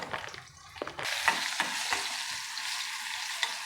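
Almonds frying in ghee for banana halwa, a steady soft sizzle with occasional stirring scrapes in the pan, close and moderately loud, with no voices.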